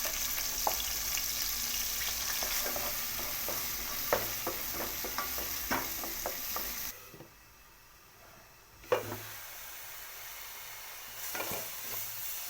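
Ground paste sizzles in hot oil with chillies in a pan, a steady close frying hiss with stirring clicks that stops briefly, then the sizzle resumes.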